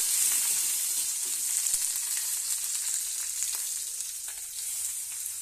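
Spices such as dried red chilli and curry leaves tempering in hot oil give a bright, steady sizzle up close, hissing evenly with small crackles and no voices.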